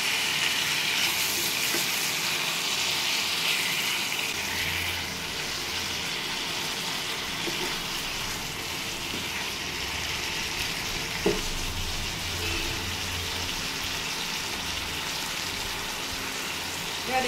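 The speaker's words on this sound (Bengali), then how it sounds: "এবার এতে দিচ্ছেন সামান্য পরিমাণ জল, ওটা আপনার যে পেঁয়াজটা গ্রেট করেছিলেন সেই ভেতরে জলটা।" Grated onion water poured into marinated spices in a hot pan, giving a steady loud sizzle and hiss that calms into a softer, continuous frying crackle with a few faint clinks.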